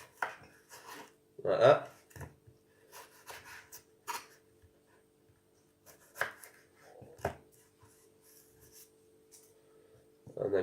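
A knife chops through both ends of an onion on a cutting board in a series of sharp, close thuds spaced irregularly, with a brief spoken phrase in between.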